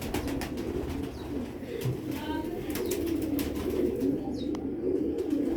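Sialkoti pigeons coo softly and repeatedly against a steady low background hum, with occasional faint chirps nearby.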